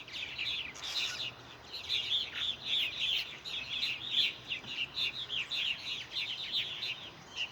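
Fledgling purple martins chirp and chatter in a dense, continuous flurry of high calls as they come in to roost at a backyard colony, moderately distant and steady throughout.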